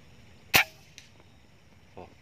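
One sharp, crisp shot from an R.ONE semi-bullpup air rifle cracks out alone in a quiet space, followed by faint small clicks and a soft thud.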